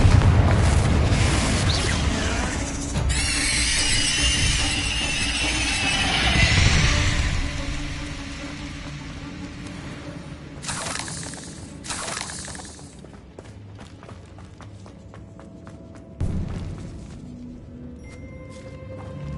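Confringo spell explosion in the video game Hogwarts Legacy on PS5, heard as a booming blast with a crackling fiery hiss that rolls on for several seconds, then fades into a few sharper cracks and pops.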